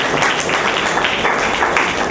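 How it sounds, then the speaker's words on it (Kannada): Loud, steady applause from an audience at a book release event, a dense wash of clapping lasting the whole moment with no talk over it. "ಜೋರಾದ ಚಪ್ಪಾಳೆ."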